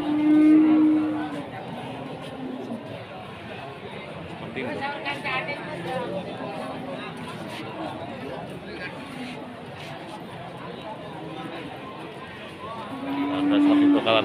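Feeder cattle of the Pegon breed low and moo at the Pasar Pon livestock market in Blora, with a deep call at the start and another near the end over a steady crowd hubbub and chatter.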